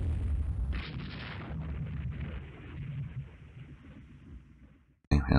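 Naval gunfire and shell hits in Rule the Waves 2, a rumbling barrage of heavy booms that slowly fades, then a sudden loud burst right at the end.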